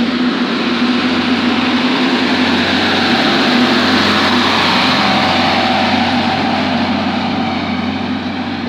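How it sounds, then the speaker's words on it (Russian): A new Kirovets-style wheeled tractor runs with a steady, loud diesel drone and faint whine, holding close and even throughout on a rural farmyard with geese, no voices. "Вот такой вот трактор, кто знает, что это такое, типа кировца, но не кировец."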